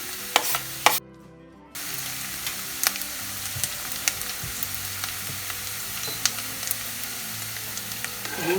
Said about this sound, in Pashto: پیاز مې صرف پکې نرم کړل، سره کړي مې نه دي.